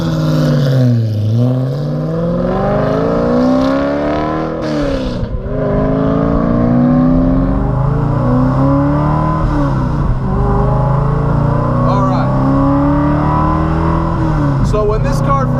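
A 425 WHP Coyote V8-swapped Porsche Cayman with a factory Cayman S 6-speed gearbox accelerates hard through the gears, its loud engine note climbing and dropping with each shift, heard from inside the car while driving.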